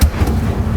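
Incendio fire spell cast in Hogwarts Legacy, a short, deep, booming burst with a low thump and a brief rumbling tail, loud and close.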